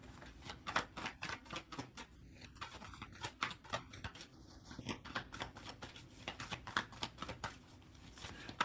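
Tarot cards handled and drawn during a love reading, giving a run of soft, quick taps, flicks and shuffling rustles at close range with no talk.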